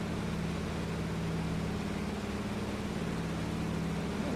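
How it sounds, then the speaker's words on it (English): A Kodiak 100 aircraft's engine in Microsoft Flight Simulator drones steadily throughout with a low, even hum and no change in level. "It is radial engine, I guess."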